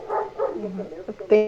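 A pet dog barks in a home: a couple of short, fairly close yaps at the end, following a stretch of a person talking.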